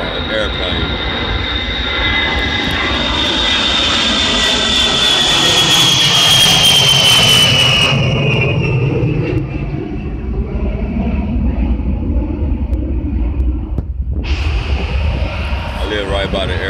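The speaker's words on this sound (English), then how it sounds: "planes fly over the house all the time" A jet aircraft passes low over a house near an Air Force Base, its loud roar and whining engine tone building, peaking, then fading into distance over several seconds.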